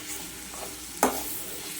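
A rice dish with biryani masala being stirred in a pan: a faint sizzle runs beneath a single close, sharp spatula scrape about midway through, with no voices.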